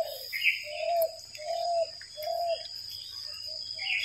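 Doves coo around a village, a series of low rounded calls repeating at a steady pace, with other birds chirping and insects buzzing faintly in the background.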